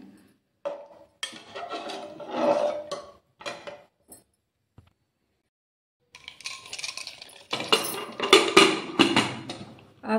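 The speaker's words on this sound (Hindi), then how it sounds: "अब इसे हम अच्छी तरह से मिक्स कर लेंगे दलिया में।" A spoon stirs salt into daliya porridge in a pot, giving irregular scraping and clinking bursts at close range with a quiet pause in the middle and no talking.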